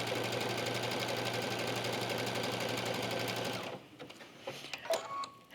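A sewing machine stitches a straight line across bead fabric in a steady, loud mechanical whir that stops after a few seconds, followed by faint clicks and handling sounds.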